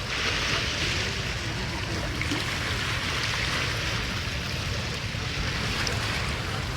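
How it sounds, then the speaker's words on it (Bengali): River waves wash and lap in a steady broadband roar, mixed with wind buffeting the microphone, loud and continuous without a break and with no voices. "ঢেউয়ের আওয়াজ"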